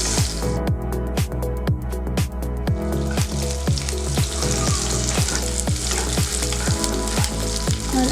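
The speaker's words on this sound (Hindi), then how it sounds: "और मिर्ची, उसको भी थोड़ा भून लेंगे।" Chillies fry in a pan with ginger while making rajma masala, a steady loud sizzle broken by regular stirring scrapes and taps of a spoon, no voices.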